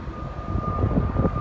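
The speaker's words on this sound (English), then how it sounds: "here comes Post Malone's plane now, the Gulfstream, which has the blown tires" A Gulfstream IV business jet with blown tires lands in an emergency at Stewart Airport, Newburgh, heard as a steady, moderately distant engine roar with a thin high whine running through it.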